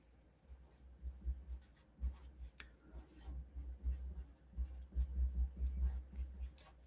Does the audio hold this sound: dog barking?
no